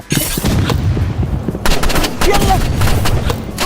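Rapid bursts of gunfire ring out in a shooting video game, loud and dense over a rumbling background for several seconds, ending in a headshot.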